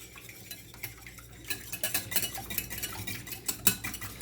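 Eggs being beaten with a whisk for a home fish fry, a quick run of light, rhythmic clinking and scraping against a bowl, growing busier and louder after the first second, with no talking.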